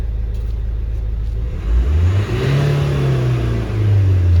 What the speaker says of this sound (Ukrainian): Зараз будемо газувати, подивимося, чи в нас працює наш датчик.